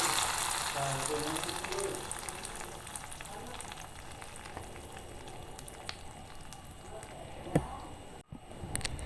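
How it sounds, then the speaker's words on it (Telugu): Curry leaves and seasoning sizzle in hot oil as a tempering for coconut-tomato dal, a steady crackling fry that fades slightly, with a sharper pop near the end and faint background voices. "తాలింపు పెడితే అసలు సుహిమని సౌండే వచ్చేది కాదు ఇప్పుడైతే చూసారా ఎంత బాగా వస్తుందో"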